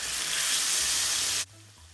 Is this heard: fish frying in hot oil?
yes